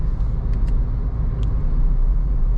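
Cabin noise inside a Skoda Slavia 1.5 cruising on a highway through traffic: a steady low road and engine rumble with tyre roar, plus a few faint brief high squeaks.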